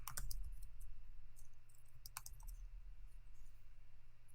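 Quick bursts of clicks from a computer keyboard as a new file name is typed, quiet and close, irregular keystrokes scattered through a hushed room with no talking.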